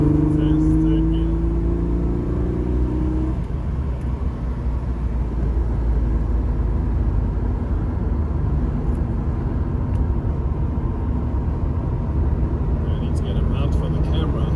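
An Alfa Romeo GTV6 pulls steadily in third gear, a continuous loud engine drone and road roar filling the whole stretch with only slight shifts in pitch.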